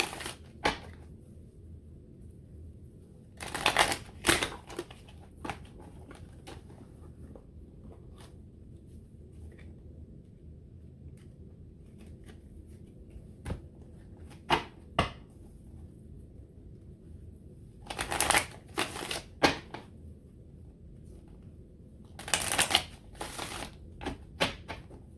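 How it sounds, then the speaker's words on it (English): Tarot cards are shuffled in brief, crisp bursts of riffling and shuffling, separated by long quiet stretches, close and fairly faint. "Sorry, the shuffling has been taking so long."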